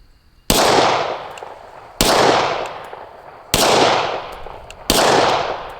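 Four loud, sharp gunshots from an ATI FXS 9 firearm fired at targets, evenly spaced about a second and a half apart, each trailing off in a long echoing decay.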